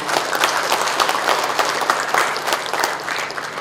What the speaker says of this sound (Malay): marilah kita beri tepukan kepada mereka.